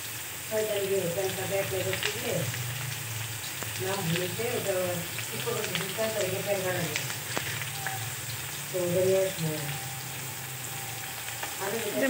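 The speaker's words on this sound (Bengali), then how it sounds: "সয়াবিন তরকারি বানায়, জিরা, পেঁয়াজ তেলানি দিয়ে" Soybean curry frying in oil with cumin and onion, a continuous close sizzle and hiss with occasional stirring, while a voice talks over it at times.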